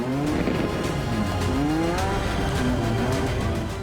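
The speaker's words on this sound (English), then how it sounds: "It doesn't, from that point of view, seem like the obvious place to do a car chase." A car chase stunt on narrow, short hillside town roads, with an engine revving hard and tires squealing in long sweeping skids, loud and close and continuous, with no voices.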